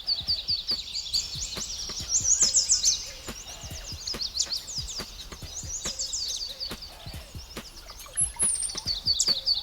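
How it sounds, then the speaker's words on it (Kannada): Morning birds chirp in a cartoon setting, quick high tweets in bursts over a steady rhythm of soft ticking beats, moderately loud and without talk. "ಇದಂತೂ ಬೇಗನೆ ಎದ್ದು ಬೆಳಗ್ಗೆ ಚಿಲಿಪಿಲಿ ಅಂತ ಹಾಡುತ್ತೆ"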